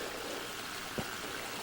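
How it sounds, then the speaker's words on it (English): Water runs steadily from a mine adit at an old mine and millsite, a soft, constant trickling flow heard up close, with one brief low thump partway through and no voices. "Quite a bit of water coming out of that adit"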